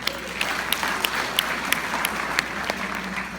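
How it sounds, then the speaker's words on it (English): Audience clapping at a devotional bhajan gathering, a steady patter of many hands with a few sharper individual claps standing out, moderately close and continuing without speech. "Please clap for yourselves."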